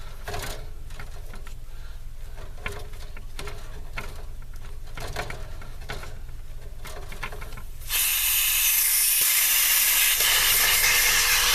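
Residual refrigerant hisses from a cut suction line on an HVAC evaporator coil, a low steady hiss with faint clicks that jumps abruptly to a loud, bright, close rush partway through and holds there.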